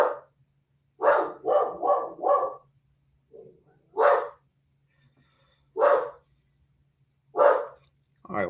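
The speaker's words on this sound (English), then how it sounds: "Why is this dog barking?" A dog barks in sharp separate bursts, first four quick barks in a row, then single barks spaced a second or two apart, close and fairly loud in a quiet room with a faint low hum beneath.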